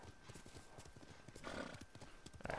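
Horse hooves clip-clopping in the video game Ghost of Tsushima, a steady rhythmic trot of many quick hoof strikes over a busy game background, with a brief swell of other noise near the middle.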